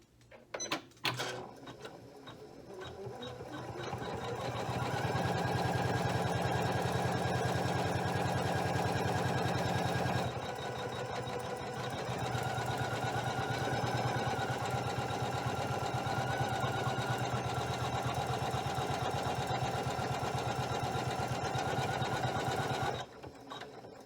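A Janome 500E embroidery machine stitches a placement line, a steady rapid mechanical whirring hum with a fast needle rhythm that runs continuously for over twenty seconds, starting up after a brief click and stopping near the end.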